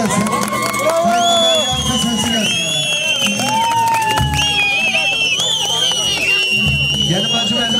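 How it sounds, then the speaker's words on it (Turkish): Lively crowd at a Turkish henna night celebration, with dense cheering, whoops and babble filling the whole stretch alongside music, loud and continuous; individual clapping is not clearly separable. "Hele bir alkış sesi gelsin"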